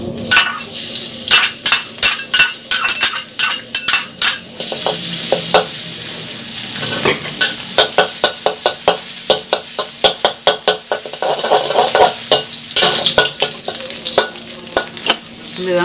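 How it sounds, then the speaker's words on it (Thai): Chopped garlic frying in hot oil in a pan, a dense bright sizzle under rapid, repeated metal spoon scrapes and clinks against the pan, close and loud with no talking. "เดี๋ยวพี่ปูจะเจียวกระเทียมนะคะ"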